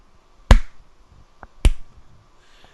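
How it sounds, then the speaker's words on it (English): Slow clap, three sharp isolated hand claps spaced about a second apart, crisp and close in an otherwise quiet room. "A slow clap for you, sir, for that answer."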